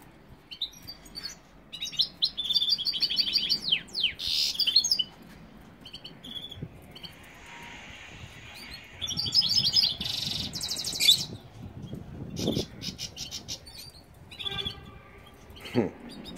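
A goldfinch sings in an aviary, with bursts of bright, rapid twittering and trills rising and falling over several seconds, along with other faint chirps and background room noise, and no talk.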